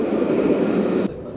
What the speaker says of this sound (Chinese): 我们已经听到那个轻轨要过来的声音